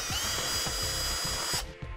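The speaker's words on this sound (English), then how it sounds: "and then drill out to 5/16" Power drill boring holes for a Blue Ox base plate kit on a 2009 Dodge Ram pickup, enlarging to 5/16 inch; a loud, steady high whine runs close up for most of the clip, then cuts off abruptly near the end.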